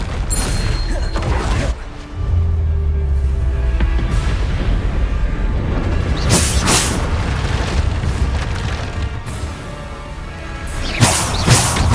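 Bombarda blasting spells from Hogwarts Legacy detonate as loud booming explosions, with a heavy low rumble near the start and sharp crashing bursts around the middle and end over continuous battle noise.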